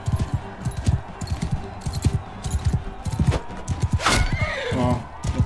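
A horse whinnies sharply after being struck in battle in the video game Mount & Blade II: Bannerlord, rising over a steady rhythm of hoof clip-clops and clattering combat noise, with a second fainter whinny following.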